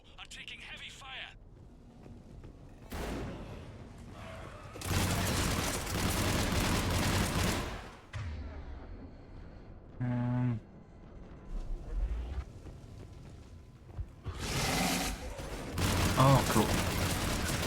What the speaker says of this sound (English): Foxtrot and Bravo are taking heavy fire.